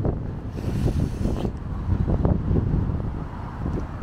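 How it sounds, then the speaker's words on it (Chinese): Strong wind buffets the microphone on a windy day while riding a bicycle through city streets in Xiamen, a loud, continuous low roar with gusty surges and no talking. "今天是大风天呐，大风天，风很大。"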